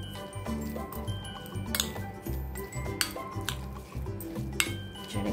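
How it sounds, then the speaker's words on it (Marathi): Fresh turmeric is stirred into cooled oil in a metal vessel for pickle, giving repeated light clinks and soft squishy scrapes at an irregular pace over a steady tonal background. "आता ही सगळी हळद आणि जे आहे हे मी याच्यामध्ये मिक्स करून घेते."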